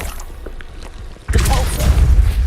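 A Confringo spell explosion in Hogwarts Legacy, a sudden loud fiery burst that cuts in after a quieter stretch and roars on as a dense rumbling blast.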